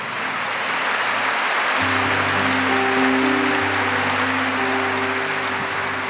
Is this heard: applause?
yes